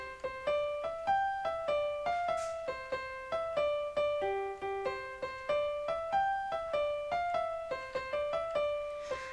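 Piano plays the opening of the carol "I Saw Three Ships" at a sped-up tempo, a bright, steady stream of plucked-sounding notes in a lilting triple rhythm, close and clear with no talking.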